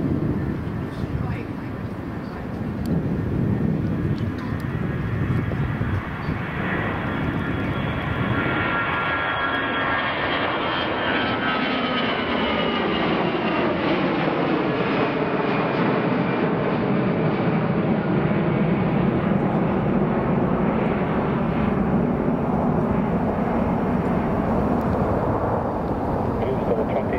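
A Southwest airliner departing from MSP Airport roars with sustained jet engine noise for the whole span, loud and steady with a sweeping rising-and-falling tone as it passes.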